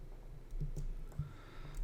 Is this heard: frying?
no